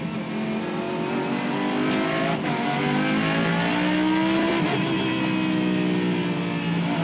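Lamborghini Super Trofeo race car at Portimao circuit in the Algarve, its engine roaring loud and steady as it plunges downhill and climbs, pitch shifting with gear changes and no talk.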